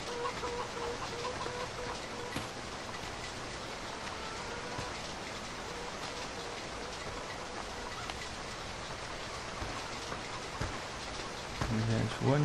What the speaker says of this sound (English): How come it's raining in here? I'm inside, but it's still raining.